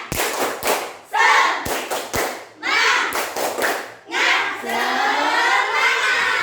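A class of pupils does a rhythmic tepuk semangat clapping chant, sharp group claps in patterned bursts alternating with loud shouted chanting voices, ending in a sustained group cheer.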